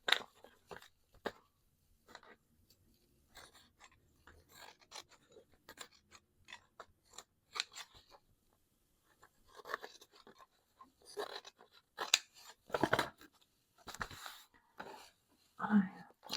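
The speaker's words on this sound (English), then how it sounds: "So I have some pinking shears." Pinking shears snip through sewing fabric in a run of crisp crunchy cuts, some close and loud, with pauses between snips and quiet handling noises; no talk.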